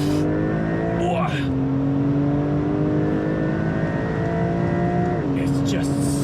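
Porsche 911 992 Turbo S under hard acceleration, a loud continuous engine roar rising in pitch through the gears with two brief shift dips, steady and close throughout.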